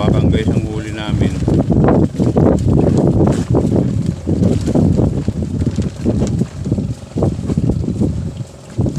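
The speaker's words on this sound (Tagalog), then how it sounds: "malakas kasi ang hangin" Strong wind buffets the microphone on a small fishing boat at sea in rough, wavy water, a loud continuous roar with gusts throughout, with people talking over it.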